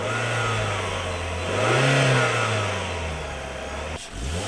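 A Tigra car with a 1.4-liter Ecotec engine revs up steadily, its mid-pitched engine note rising and falling as it accelerates loudly and close by, with no talk over it.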